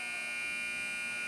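An ice hockey arena buzzer ends the first period of an under-15 game, a steady loud electronic drone held without a break.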